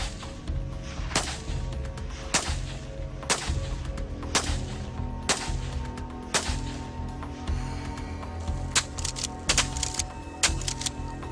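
A shotgun fires Dragon's Breath rounds bought as Fourth of July fireworks, giving a series of sharp, loud cracks at irregular intervals, several close together near the end, with little else around them.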